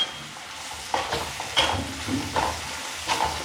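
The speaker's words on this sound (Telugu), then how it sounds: "కొంచెం పచ్చివాసన పోయేదాకా అల్లం వెల్లుల్లి పేస్ట్ బాగా వేయించేసుకోండి." Ginger garlic paste fries in a pan with a close, crackling sizzle, overlaid by rhythmic scraping strokes as it is stirred.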